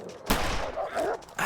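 Rifle shots crack in The Long Dark, several loud bursts in quick succession over about a second and a half, close and harsh.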